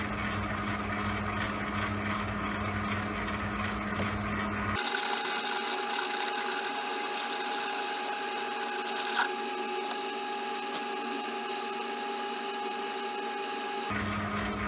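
A metal shaper machine cutting a machine vice, taking very light passes, gives a steady mechanical whirring hum that grows brighter and busier midway with faint ticks, then settles back, continuous throughout with no talking.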